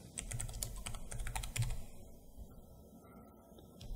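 Keys clatter on a computer keyboard in a fast run of typing for about two seconds, then tapering off into quieter room noise, with no voices.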